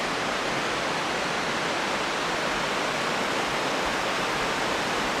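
A loud, constant rush of a river beside a trekking trail in the Langtang valley, Nepal Himalaya, a dense steady roar with no other sounds.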